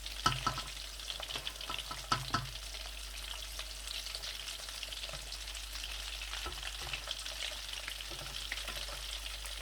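Vegetable nuggets fry in hot oil with a steady soft sizzle. Scattered crackles and stirring clicks come early on, and no one speaks.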